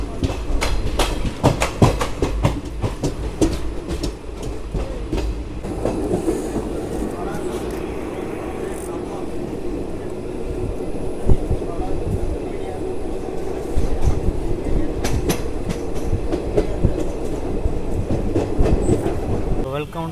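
Simhadri Express, on the Visakhapatnam to Guntur route, rumbles steadily along the rails after leaving Eluru, with rhythmic wheel clatter and rattling carriages heard loud from inside the coach throughout.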